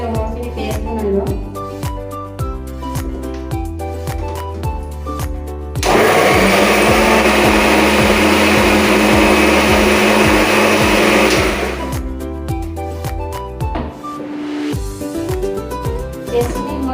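A mixer grinder whirs loudly and steadily for about six seconds, blending onion, green chili and garlic into paste, starting and stopping abruptly amid background music.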